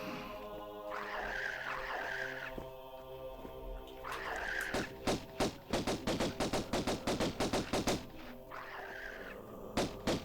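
Pistol fire in the video game Tomb Raider: Unfinished Business: a rapid run of about a dozen sharp, loud shots in a steady rhythm, set between stretches of droning game music and ambience.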